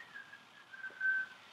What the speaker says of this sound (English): You want to whistle, you can.